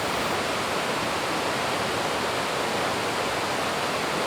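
Indian Creek Falls near Cherokee, North Carolina, in the Great Smoky Mountains, pours in a steady, loud, unbroken roar of rushing water heard up close with no voices.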